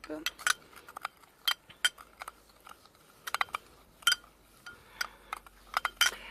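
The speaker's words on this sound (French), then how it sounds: "on prend une grosse cuillère pour mélanger" A big spoon mixing a coconut oil body scrub in a bowl gives sharp, irregular clinks and scrapes, close and fairly quiet, with short gaps between strokes.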